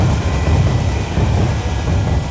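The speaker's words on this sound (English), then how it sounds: "Did we just push him in front of a train?" A train rushes past in the Alice Madness Returns video game, a loud, steady rumble with a low, rolling roar that holds unbroken from start to finish.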